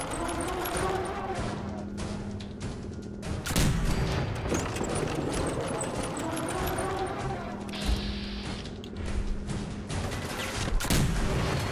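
A six crank weapon fires in Fallout 4 amid a noisy battle, with bursts of gunfire and booms over continuous rumbling game sound, and someone talking over much of it.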